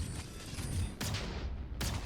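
A crab cannon weapon in modded Minecraft fires, with two sharp bursts about a second apart cutting through a steady muffled rumble, fairly quiet overall.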